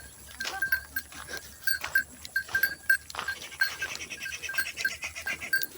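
A herd of goats crosses a bridge, bleating repeatedly in short overlapping calls at close and middle distance, with a high steady whine running underneath and no talking.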